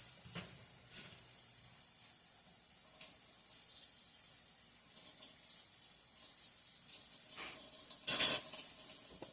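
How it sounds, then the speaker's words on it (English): A spoon rinsed under a running kitchen sink tap: a faint, steady trickle of water with soft splashes and a brief brighter burst near the end. "And just got to go take that spoon to the sink."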